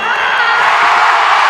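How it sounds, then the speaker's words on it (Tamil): A large audience at the Amaran audio launch, with Sivakarthikeyan on stage, roars with steady cheering, whoops and applause. The dense crowd noise is loud and continuous throughout. "இப்படி ஒரு கரகோஷம், இப்படி ஒரு சத்தம்"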